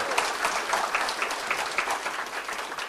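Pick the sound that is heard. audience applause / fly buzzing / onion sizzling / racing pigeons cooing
audience applause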